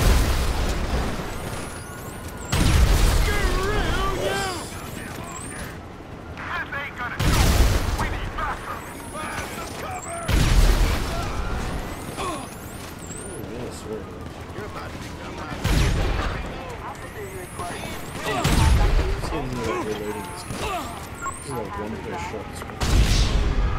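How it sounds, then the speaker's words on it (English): Video game explosions boom again and again, about five loud deep blasts spaced several seconds apart, each trailing off into rumbling gunfire and busy game sounds. "Explosion! I love explosions"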